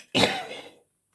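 A single harsh cough bursts out close by, loud and abrupt, then trails off quickly into silence.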